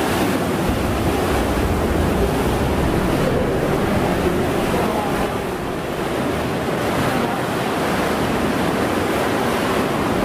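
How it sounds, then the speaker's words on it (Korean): Ocean waves surge into a cliffside sea cave once used as a boat dock on the coast at Wakayama, a loud continuous roar and wash echoing throughout with no talking. "파도가 한 번씩 들어와서 쳐."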